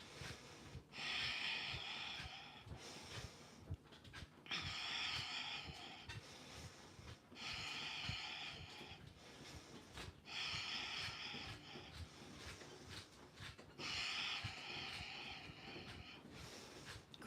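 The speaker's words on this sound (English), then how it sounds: "breathing through the nose." Rhythmic nasal breathing during a rebounder bounce workout, repeating in steady bursts of inhales and exhales over soft thudding from the mini-trampoline, fairly close and continuous.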